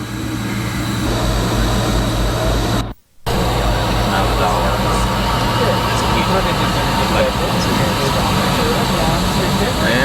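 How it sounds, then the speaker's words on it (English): An airplane's jet engines roar steadily and loudly at liftoff, a continuous broadband rumble that cuts out briefly before resuming, with the cabin noise filling the whole clip. "And we're going to have liftoff."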